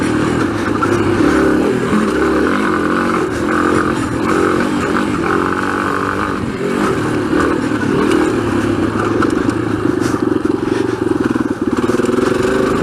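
A motorcycle engine drones loud and steady with a rough, slightly fluctuating tone while the bike rides laps on a track, close and continuous throughout.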